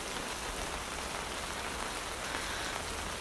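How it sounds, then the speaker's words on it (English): Steady rain falls on a surface as a dense, even hiss, close and constant throughout, with no voices. "It's just the rain"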